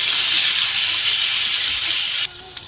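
Chopped onions and ginger-garlic paste sizzle steadily in a hot wok, a loud continuous frying hiss close by that cuts down abruptly near the end, with a faint scrape of stirring.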